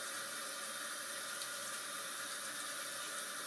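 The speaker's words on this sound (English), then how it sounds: "I'm going to just wash one side of my face." Running tap water splashes steadily at a sink as one side of a face is washed with Dead Sea skin care products, a continuous close hiss with no talking.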